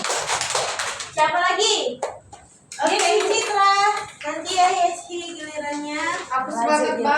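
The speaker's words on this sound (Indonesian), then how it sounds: "Tepuk tangan buat Ido" Children clapping for a classmate during a microteaching lesson in an Indonesian classroom, brief applause mixed with kids chattering and a teacher speaking over it.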